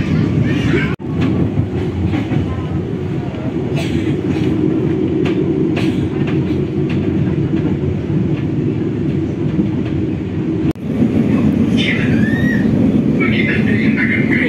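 Heard from inside the Ranggajati passenger train in Indonesia, the carriage rumbles steadily along the rails with a constant low roar, faint rhythmic clacks and occasional brief squeals, and a voice is faintly audible in the background.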